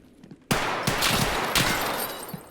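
Single-fire gunshots from a rifle in the video game Escape from Tarkov, a few sharp, loud reports spaced about half a second apart after a quiet start, each with a short echoing tail.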